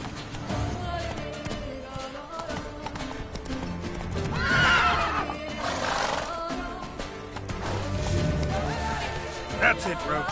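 Roach, a video game horse, gallops with rapid clip-clopping hooves and lets out a loud neigh partway through, another whinny near the end, while game voices and ambience sit underneath.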